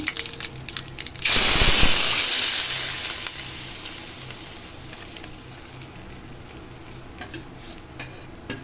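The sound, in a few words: tomato chutney poured into pan, sizzling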